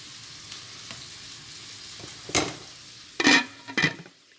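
Half a stick of butter melting in a pot for cooking rice, giving a faint continuous sizzle broken by three short, louder bursts of clatter and spitting near the end.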